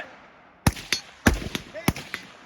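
Rifle shots fired at targets on an outdoor range ring out as three sharp, loud cracks about half a second apart, each with a short echoing tail.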